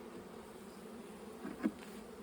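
Honey bees hum steadily around small salvage colonies being merged, a close, continuous drone with one brief louder swell near the end.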